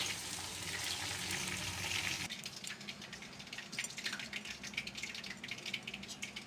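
Small chicken pieces fry in oil with a dense, hissing sizzle that shifts partway through to a crackling, popping spatter. The sound is fairly quiet and steady, with no voices.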